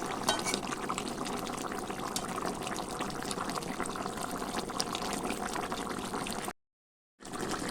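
A pot of tengra fish curry with eggplant and potato boils on the stove, giving a steady, close bubbling and simmering hiss that drops out briefly near the end.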